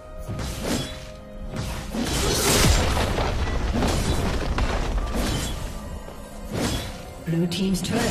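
Turret destroyed in League of Legends, a heavy booming crash with crumbling debris that rumbles for several seconds, loud and close, with an announcer voice and game effects mixed in.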